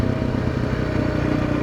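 A motorcycle engine runs up at about 4,200 RPM, a loud close steady throbbing drone with a rough clattering pulse and no talk over it.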